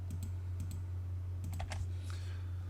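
A computer keyboard used for AutoCAD commands, with a few light clustered keystroke clicks over a steady low hum, faint and close.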